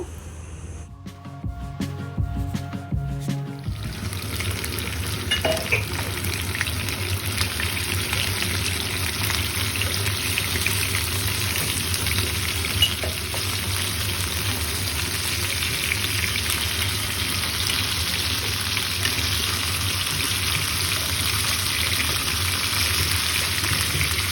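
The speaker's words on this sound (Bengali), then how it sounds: "এরপরে হচ্ছে পর্যাপ্ত পরিমাণ পানি দিয়ে দেবো" Water is poured into a pot of moong dal khichuri after the rice and turmeric have been fried, giving a steady, close, loud rushing and hissing sizzle that runs for the whole stretch, with some clattering at the start.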